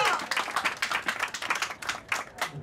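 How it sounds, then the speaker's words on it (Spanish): A small group claps for a manager, an uneven patter of individual hand claps that is fairly close and moderately quiet, with irregular bursts over a couple of seconds. "un aplauso para Virginia"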